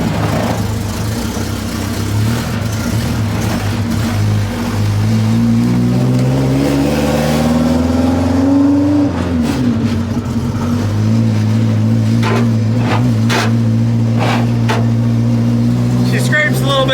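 A race car on a test drive around the block, its engine loud and close throughout, holding a steady mid-pitched drone that rises and falls as it accelerates, with speech over the engine.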